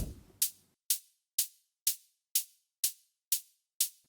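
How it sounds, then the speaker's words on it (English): Eight evenly spaced open hi-hat hits, each a bright sizzling splash that decays quickly, played alone at a steady tempo. "After that we have an open hi-hat which sounds like this."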